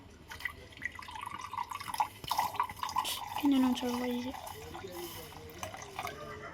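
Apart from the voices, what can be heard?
water poured into a glass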